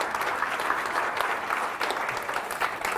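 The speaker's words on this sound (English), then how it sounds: "Please, give yourself a round of applause." Audience applause at a speech therapy group gathering, a steady wash of many hands clapping at moderate distance, continuous without a break and no voices over it.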